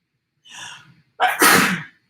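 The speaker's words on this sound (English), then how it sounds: "that's going to make me sneeze" A single sneeze bursts out loud and close, preceded by a softer sharp inhale, while someone leafs through an old September 1947 LIFE magazine with musty paper.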